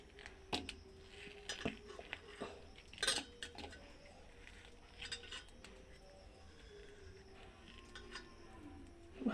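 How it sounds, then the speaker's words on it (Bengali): Spoon scraping the soft pulp out of a ripe mango, a series of quiet scratchy, clinking strokes in an uneven rhythm, close but faint. "ভালোভাবেই চেঁচে তুলে নিতে হবে চামচ দিয়ে।"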